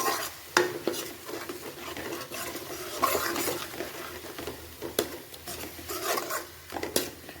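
Onion-ginger paste with a little mustard seed sizzling in a pan for a shahi cabbage dish, stirred with a spoon: close, repeated scraping strokes and occasional metal clinks over a low hiss.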